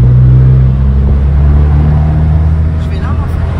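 A Fiat 500 Abarth with a stage 1 stainless steel exhaust idles and revs up close, its low throaty rumble droning steadily for several seconds, with a brief higher rev near the end.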